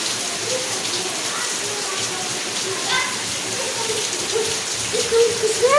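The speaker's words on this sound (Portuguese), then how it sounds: "Eu não posso ir nessa chuva aqui, senão vou molhar essa lá." Steady rain falling outdoors, a constant close hiss of drops on surfaces, with someone speaking faintly and intermittently over it.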